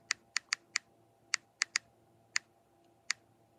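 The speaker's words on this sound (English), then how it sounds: "this is me just typing in every single tag word there is that I could possibly think of" Typing on a computer keyboard, sharp separate key clicks arriving in an uneven rhythm with short pauses between bursts, close and fairly quiet against a faint background hum.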